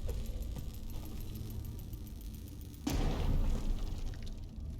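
A grenade explodes in Dishonored 2 with a sudden loud boom partway through, followed by a rumbling tail over the continuing game background.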